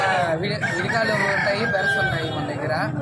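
Chickens and young birds at a poultry market in Nellore, with clucking and calls running steadily through the clip beneath a voice and other market talk, fairly close and loud.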